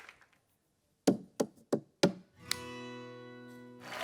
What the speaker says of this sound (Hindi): आपका कोई बोतल ग्लास के साथ टक टक टक बहुत कमाल करते हैं।